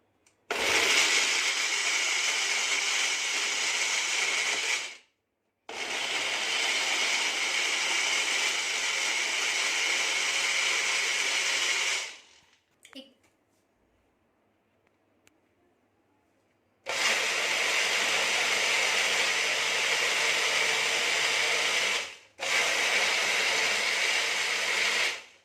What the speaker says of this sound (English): Now we'll grind this mixture to a fine paste.